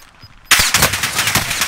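Rapid automatic gunfire in an online shooter game bursts in abruptly after a near-silent moment, a dense, loud stream of shots close up continuing to the end.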